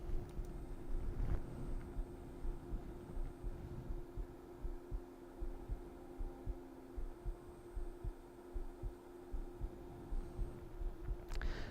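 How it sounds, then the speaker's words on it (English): A stepper motor linear actuator retracts ten inches at one inch per second in 1/32 step mode, a faint steady hum with a soft, regular low throbbing all the way through and a small click near the end. "Retract 10 inches at 1 inch per second using the rated current of the motor in 1/32 step mode."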